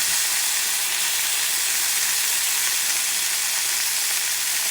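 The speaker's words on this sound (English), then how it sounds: "And you let this baby cook. And you let the egg cook" An egg fries over high heat in a pan, giving a loud, steady sizzle and hiss that continues without a break and has no voices over it.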